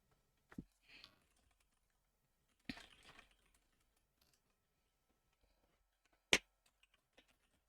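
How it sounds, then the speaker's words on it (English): Sparse computer keyboard typing in a quiet room, a few isolated key clicks and short clusters with long silent gaps, fairly close and soft. "Yeah, I love typing."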